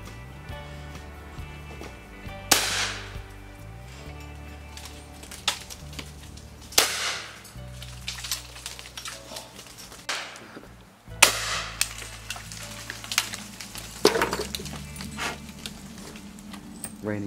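A cheap shotgun fires at clay targets outdoors, producing several sharp, separate bangs spaced a few seconds apart with fainter background noise between them.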